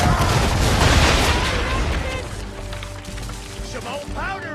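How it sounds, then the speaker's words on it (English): A ship's cannon broadside booms and rumbles in Assassin's Creed 3 naval combat, loud and close with layered blasts that fade into a lingering roar, with voices shouting over the gunfire. "Now, aim all guns at her bow and do as much damage as possible."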